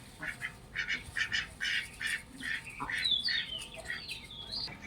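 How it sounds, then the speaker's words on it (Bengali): Chinese ducks quack repeatedly in a village yard, a rhythmic run of nasal calls close by, with higher squawks overlapping toward the end. "এটা চীনা হাঁস। এই চীনা হাঁস কয়টা আছে?"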